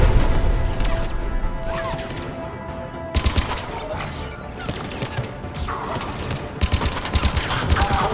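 In the Mass Effect 3 video game, dense cannon fire and gunfire keep up a continuous barrage of booming blasts and rapid crackling shots, loud and close throughout.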